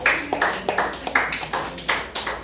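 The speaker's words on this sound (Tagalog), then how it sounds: "Pumalakpak po sa Panginoon ang mga tunay na iglesia ni Kristo." Church congregation clapping for the Lord in a rhythmic burst of about nine to ten claps, steady and fairly close, with some voices mixed in.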